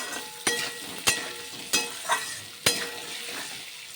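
Spice paste with turmeric powder is sautéed in hot oil for a fish curry, sizzling continuously while a utensil scrapes the pan in about six sharp strokes at an uneven rhythm, close and clear, no talking.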